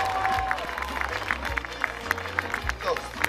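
Audience applause at a Tbilisoba (Day of Tbilisi) concert in Moscow: steady crowd clapping with sharp claps standing out, under shouted talk and voices.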